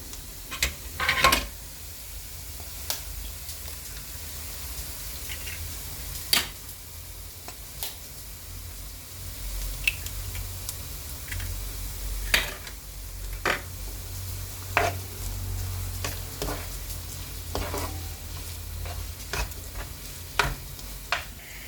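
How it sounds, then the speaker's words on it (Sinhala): Two eggs cracked into a pan and stir-fried for nasi goreng, a low, steady sizzle with scattered sharp taps and scrapes from a utensil against the pan, close by. "දැන් මේකට අර බිත්තර 2ක් කඩලා දාමු."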